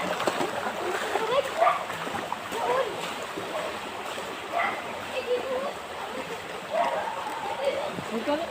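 People bathing in a stream splash and slosh through the water in repeated bursts at close range, with voices talking over the steady rush of running water.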